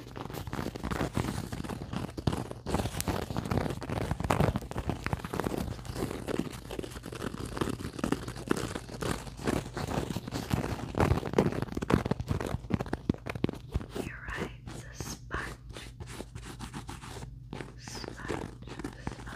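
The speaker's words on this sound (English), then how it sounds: "You're right, it's a sponge." A sponge is squeezed and rubbed close to the microphone in an ASMR session, giving continuous soft crunchy, rustling squishes, with quiet whispering in places.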